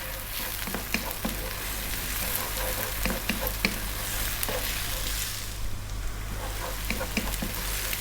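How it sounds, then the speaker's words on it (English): Two tablespoons of chopped garlic fry over high heat in a hot pan for garlic fried rice, a continuous close sizzle with scattered clicks of stirring over a low steady hum. "I'm going to add the 2 tablespoons of chopped garlic"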